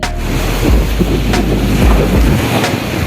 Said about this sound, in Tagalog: Ibang klase yung dalang tensyon ng mga naglalakihang alon na to.